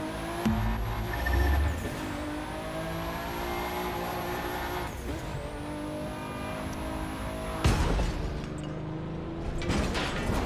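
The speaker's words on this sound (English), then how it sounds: "That was a decent drift." A car drifts in The Crew 2 racing game, played on a racing wheel, its engine droning with rising and falling revs and tire squeal across the turn, loud and continuous with no talking.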